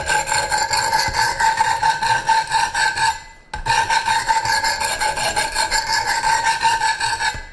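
A Strider SMF knife is sharpened on a Wicked Edge system, a coarse grit stone rasping across the bevel in repeated rough, gravelly strokes. The scraping is loud and close, with one brief pause midway.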